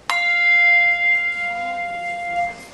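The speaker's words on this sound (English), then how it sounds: "it's a normal bell, like everybody knows it, with a thing in it, and to ring it, you just have to" A standard hand bell with a clapper, struck once and left to ring, its clear metallic tone with bright overtones sustaining and slowly fading over about three seconds, heard alone.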